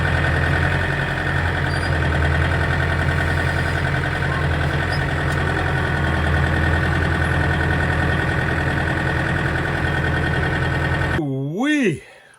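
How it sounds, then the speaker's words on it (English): An old John Deere tractor engine runs at a steady idle nearby, a continuous low rumble with a rhythmic knock that carries on for about eleven seconds in a snowy outdoor setting before cutting off abruptly. "All right, the old John Deere fired right up."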